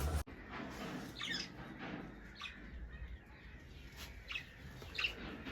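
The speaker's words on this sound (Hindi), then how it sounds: "ये अभी आई है जो फीमेल बजी है ना, ये हमारी ब्लू वाली।" A female blue pet bird gives faint squawks and chirps a few times over a low, steady background hum.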